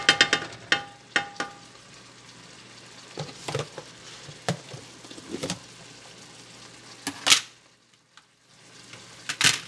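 Leftover cooked shrimp heating through in oil and butter in a pan, giving soft, irregular sizzling crackle with a few sharper clinks and pops from stirring, close and fairly quiet, with brief lulls between bursts.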